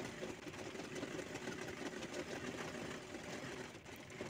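A sewing machine stitches along the side of a cloth bag made from a single circle of fabric. It gives a steady, continuous whirring hum that stays even throughout. It sounds fairly close, with no talk.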